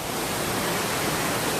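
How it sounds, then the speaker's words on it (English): A waterfall at Jurong Bird Park in Singapore gives off a steady, even roar of falling water. The broad hiss fills the whole stretch without a break. "I'm going to show you a waterfall"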